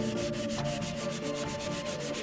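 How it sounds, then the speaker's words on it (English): A medium grit sanding sponge rubs steadily over an old pirate sword's metal blade held in a vise, making a continuous, close, fairly even scraping hiss with faint rhythmic strokes and no voices. "clean its surface with a medium grit sanding sponge"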